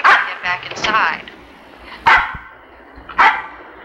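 A dog barks and yips on a park walk, a run of excited barks followed by two sharp, loud single barks spaced apart, with a person's voice talking alongside.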